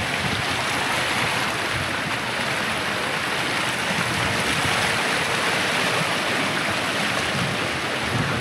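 Floodwater from a canal rushes steadily through a broken village road, a loud continuous roar of churning current with no pauses.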